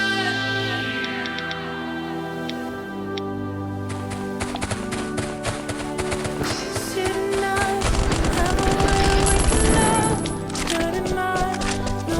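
Gunfire in the survival shooter Last Island of Survival: rapid automatic bursts of shots ring out alongside game music and tones, building into a dense, loud volley toward the end.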